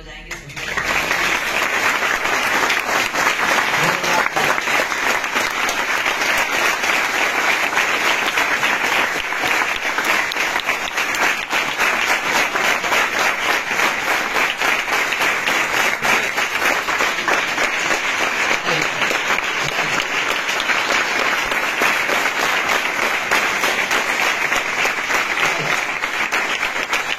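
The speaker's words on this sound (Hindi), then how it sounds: "जोरदार तालियां बजाएंगे सभी।" A large audience claps loudly and continuously for nearly half a minute, a dense, even roar of applause that starts abruptly and holds steady without fading.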